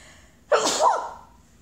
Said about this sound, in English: think I'm gonna sneeze.